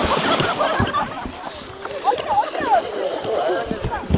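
People splashing and sloshing in river water by a boat at a Taman Negara Kuala Tahan resort, broadband wet bursts running throughout under chatter and voices nearby.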